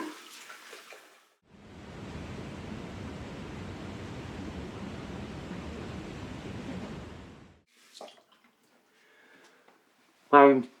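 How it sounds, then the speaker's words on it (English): Running water from a tap splashes steadily for several seconds as a man rinses his face after a wet shave with a Schick Injector razor, then stops, followed by a few small splashes and brief talk. "Let me rinse off real quick."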